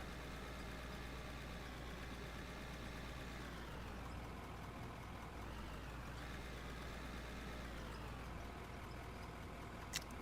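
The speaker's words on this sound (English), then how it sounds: "You like the sound of my truck working hard instead of working easy?" Mining truck engine working hard in the video game Out of Ore, a steady low drone with a rising and falling whine, continuous and faint, with no talk.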